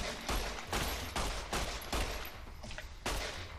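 Rapid, loud gunfire from hip firing in the Fallout New Vegas video game, with around eight close, evenly spaced shots pounding out in quick succession and no talk over them.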